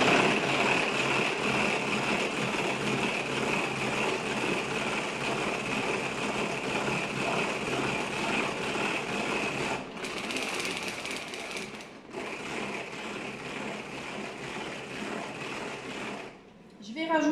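A Tupperware Speedy hand-crank mixer whirs steadily, blending sugar with three egg yolks in a kitchen; the continuous whirring runs loud and near, with brief pauses around the middle and near the end.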